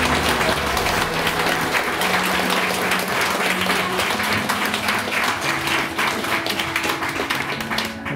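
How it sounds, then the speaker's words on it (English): Wedding guests at a Sherbrooke Castle ceremony give a warm round of applause, steady close clapping throughout with a faint low hum of music or murmur beneath. "Can you give them a round of applause?"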